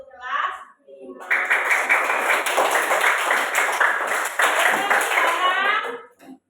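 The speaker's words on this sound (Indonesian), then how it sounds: "tepuk tangan untuk kelas 5" A classroom of grade 5 pupils claps together in a dense, steady burst lasting several seconds, after a brief spoken word at the start.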